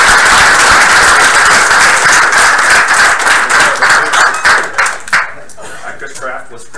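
A crowd claps for presenters at a Palm Beach tech hackathon, loud close hand claps that thin out into scattered individual claps and fade near the end.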